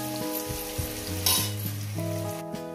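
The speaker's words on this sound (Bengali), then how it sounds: "এটাকে আমি ভালো করে সুন্দর করে ভেজে নেব" Egg with pumpkin flowers fries in a pan, a gentle continuous sizzle sitting beneath a louder backing melody throughout.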